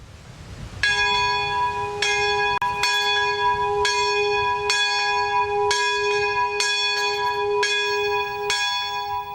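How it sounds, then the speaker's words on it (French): A church bell at a spiritual retreat house rings out clear and loud, calling retreatants to chapel, with repeated strikes about a second apart and long ringing overtones between them. "la cloche sonne en invitant les retraitants à la chapelle"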